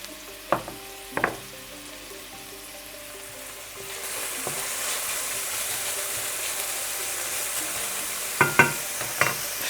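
Red and green peppers fry in a pan for stuffed eggplant with minced meat, a few sharp scraping stirs standing out over a steady, close sizzle that swells louder midway.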